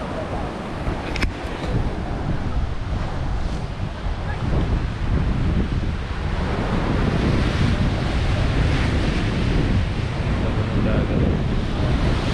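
Sea waves wash steadily onto a rocky beach near Kaybiang Tunnel in Batangas, a loud continuous surf roar mixed with heavy wind buffeting the microphone, with a brief sharp click early on.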